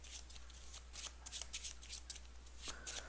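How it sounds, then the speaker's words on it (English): A deck of game cards for the Arkham Horror card game being shuffled by hand, with repeated crisp riffling bursts over a steady low background hum, close and fairly quiet. "We'll just shuffle that really quick."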